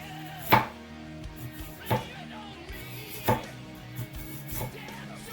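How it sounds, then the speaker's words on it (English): A knife chopping an onion on a cutting board for chili, four or five distinct close knocks spaced about a second or more apart, with quiet kitchen background and no talk. "Don't cut the center of the onion."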